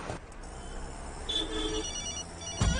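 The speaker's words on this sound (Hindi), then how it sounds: "फिर से फोन कर रही है।" A mobile phone rings with a short electronic ringtone, faint tones rising over a quiet background with a bump near the end.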